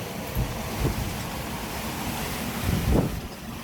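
Waves rolling up behind a sailboat running under mainsail in strong wind near Elafonisos island, a steady windy wash with two louder surging swells breaking through the rumble.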